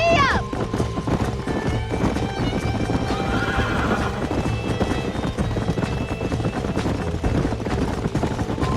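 A horse in the Red Dead Redemption video game whinnies loudly at the start, then gallops with steady, close clip-clopping hoofbeats over a dense, continuous wash of game sound.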